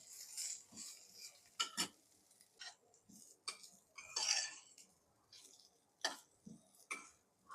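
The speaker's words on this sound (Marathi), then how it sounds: "हा आपण 2 मिनिट तुपावर परतून घेतोय" Spoon scraping and stirring in a pan as rice is sautéed in ghee for Narali Bhaat, a sweet coconut rice: a series of separate clinks and scrapes in an uneven rhythm, close and fairly quiet, with no voices.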